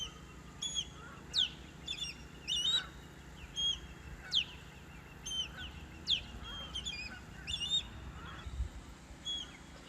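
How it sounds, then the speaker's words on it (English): Repeated sharp bird calls of alarm ring out in short bursts over a steady outdoor rumble near Chesapeake Beach, Maryland, each cluster of chirps rising and falling at intervals. "She's warning. That bird's warning."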